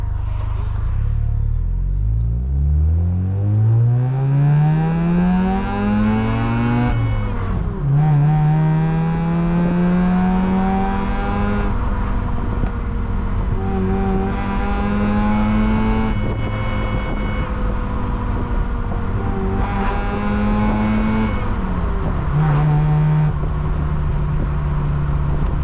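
A Mazda FC RX-7 rotary engine with a smooth, high-pitched whir revs up through the gears, with repeated quick drops and blips of revs as it rev-match downshifts, loud and close.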